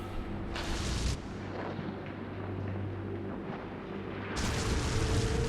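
Loud roaring bursts of fire flaring up in the game Dungeon Siege III, a sustained whooshing rumble at the start and again near the end, with a low steady hum beneath.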